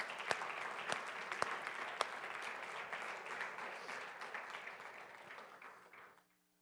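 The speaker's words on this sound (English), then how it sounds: "Anybody else want to give God a round of applause right now for that?" A church congregation at a Sunday celebration service breaks into applause, a fairly faint crowd clapping with a few sharp individual claps at the start, then slowly thinning and trailing off to silence.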